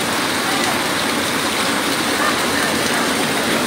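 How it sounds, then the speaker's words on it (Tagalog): Heavy rain pours steadily during Typhoon Carina in San Martin (Dulo), a loud, continuous broadband roar of downpour and rushing water with no break. "Lakas pa rin ang ulan."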